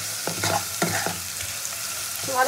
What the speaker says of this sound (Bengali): তো ভালো করে পেঁয়াজটাকে ভেজে নেবো প্রথমে।